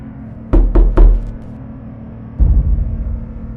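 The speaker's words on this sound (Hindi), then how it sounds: "ये दस्तक की आवाज" Knocking on a bedroom wall: three quick sharp raps close together, a pause, then a duller, longer rumbling thud, loud and near with no talking.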